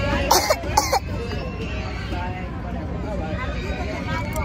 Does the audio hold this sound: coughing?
yes